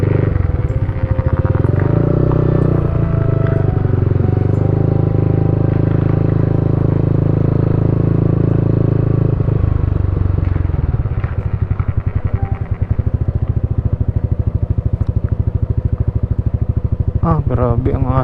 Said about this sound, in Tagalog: Dini ho sila nagpapaingay ng motor para walang susuway sa kanila.